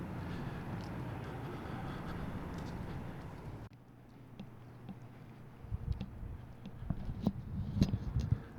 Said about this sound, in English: All right, here comes that outbound train.